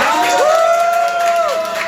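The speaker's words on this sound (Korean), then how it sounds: "주인공들 더큰 박수 부탁드립니다" An audience claps and cheers at a first-birthday party, with dense crowd noise throughout and a gliding tone sweeping up and back down over it.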